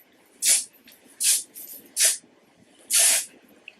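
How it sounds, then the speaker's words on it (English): Dry thickening hair spray hissing from an aerosol can in four short, bright bursts with brief pauses between them, close and isolated against a quiet room. "dry thickening spray."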